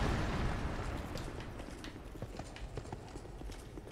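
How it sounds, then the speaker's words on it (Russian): Cursed chariot horse galloping in the video game Dark Souls 2, a steady run of hoof clip-clops over a rumbling, busy game soundscape, fairly loud and continuous with no talk. "лошадь из проклятой колесницы"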